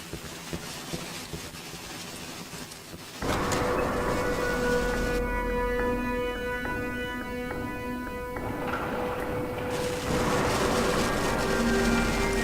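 A subway train in the horror video game Cry of Fear starts up with a sudden loud rumble and rising mechanical whine, then runs on as a steady, droning roar with metallic tones over the rest of the stretch.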